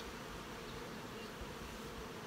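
Honeybees hum steadily in the top box of a hive, a close, continuous, even drone that holds at one level with no voices.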